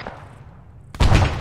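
Gunfire in the military video game ArmA 3 during a squad operation: a faint distant report at the start, a quiet stretch, then a loud sharp shot with a sustained rumbling tail near the end.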